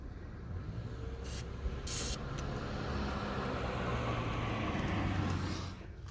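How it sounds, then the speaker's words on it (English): Short bursts of silicone spray hissing up close onto a 2009 Ford Ranger front seat recline spring, a couple of quick squirts over a low steady background rumble. "I'm also going to put on a little bit of silicone spray, just a tiny bit in this spring here."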